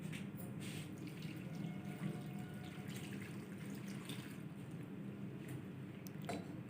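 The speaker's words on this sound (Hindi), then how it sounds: "1 गिलास पानी डालेंगे।" A glass of water pours steadily into a karahi pot of spiced meat for several seconds, a soft continuous splashing and gurgling with a faint clink near the end.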